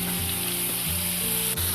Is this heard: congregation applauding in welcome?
no